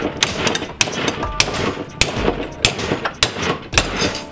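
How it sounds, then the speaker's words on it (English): Tack welding brackets onto a Mazdaspeed 3 for radiator ducting: a series of sharp, loud bursts at irregular intervals, each a crackling hit with a short buzzing tail, close and with no voices. "We're just gonna do a series of tacks right around the mounting point."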